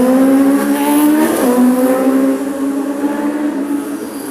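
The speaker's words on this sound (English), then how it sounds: "a little car, but super fast." A small, fast car speeds past nearby with a strong rising then falling engine whine, loud at first and easing away as it goes.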